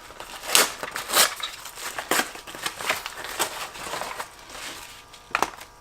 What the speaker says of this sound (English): We're going to open this package of heads from Song Gang Dong.